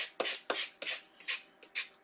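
Short rasping strokes of sandpaper on overhanging wood edges, about six in a steady back-and-forth rhythm, close and fairly quiet with no talking.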